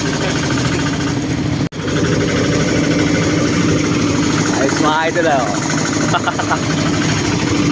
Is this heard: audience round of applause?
no